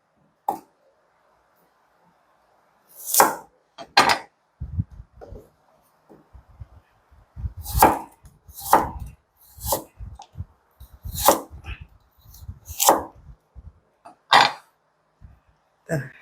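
Carrot being cut into 6 cm julienne strips with a knife on a board during a Chinese cooking exam practice, giving irregular sharp chops in short bursts with quiet gaps, close and fairly loud.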